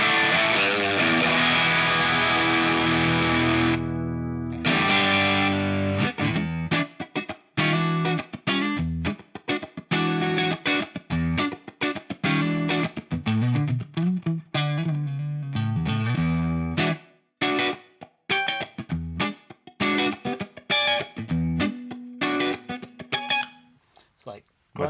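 Aerodyne Telecaster in standard tuning played through a Line 6 POD Express with a distorted, effects-laden grunge-funk tone: choppy rhythmic chords and single-note stabs with abrupt stops and sustained notes.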